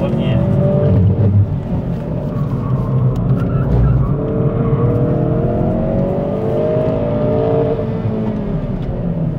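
Race car driven through a corner on a real circuit by a sim racer, engine droning loud and steady with shifting pitch under an instructor's voice speaking throughout.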